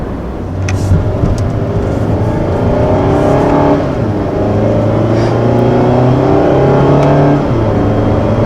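A 2019 Mazda MX-5 Miata engine revs steadily in a low gear around 3,500 RPM, a loud, continuous close drone that swells and dips with shifting pitch, alone without voices.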